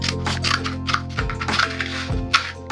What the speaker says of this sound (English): I just cut off the end of this water bottle so it'll make an awesome funnel